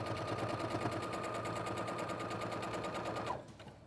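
A sewing machine stitches a cushion fabric in a steady, rapid mechanical chatter, close and constant for over three seconds before stopping abruptly.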